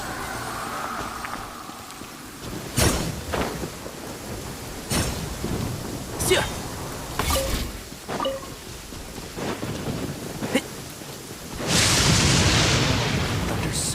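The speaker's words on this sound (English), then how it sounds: "Thunder's so loud." Rain falls steadily in the video game Genshin Impact while several sharp, close thunder cracks strike one after another, ending in a loud, rushing downpour; no voices.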